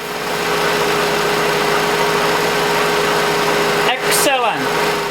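A Mercedes engine idles steadily while cold during a transmission fluid check, giving a constant, close mechanical hum with a faint whine. A short burst of other noise breaks in near the end.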